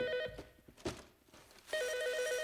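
A telephone rings in a Breaking Bad scene, a repeating electronic trill that sounds at the start and returns loud and steady near the end, with a few dull thuds and movement between the rings.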